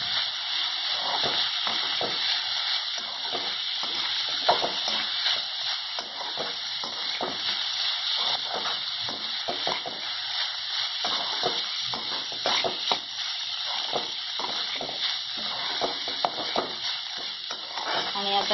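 Bitter gourd stir-fried with onions in a kadhai gives a steady, close sizzle broken by frequent scraping stirs throughout, with no voices.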